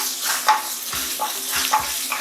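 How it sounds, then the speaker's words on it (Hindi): Garlic ginger paste frying with onions in a pan, a steady close sizzle with a few soft scrapes of stirring, with no talk. "इसके अंदर आप 1 टेबलस्पून लहसुन अदरक का पेस्ट डालेंगे।"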